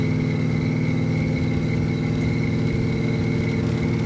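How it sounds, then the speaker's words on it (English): Heater blower motor of a 1964 Pontiac GTO running, a loud steady whir over a low constant engine rumble inside the car, unchanging throughout with no voices. "Blower motor for the heater does work"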